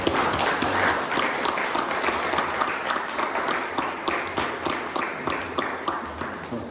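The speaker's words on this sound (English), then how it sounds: "now let's clap for Jake, Chris, and Jordan" A poetry event audience applauds the poets Jake, Chris and Jordan, with sustained, dense clapping from many hands that stays steady and close, then thins slightly toward the end.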